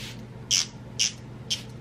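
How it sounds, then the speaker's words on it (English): Makeup setting spray misted toward the face from a short distance, three brief hissing spritzes spaced about half a second apart, close and fairly loud over quiet room tone. "So I'm gonna hold it kind of far from my face and spray it"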